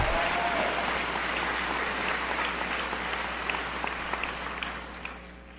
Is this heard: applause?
yes